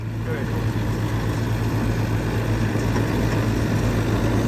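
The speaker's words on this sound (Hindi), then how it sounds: "पीछे 10 मेस का 517 मॉडल जो रीपर है वो चल रहा है भाइयों" A Mahindra 517 reaper with a 60 HP four-cylinder engine runs steadily nearby, a continuous loud diesel drone with a strong low hum that holds without a break.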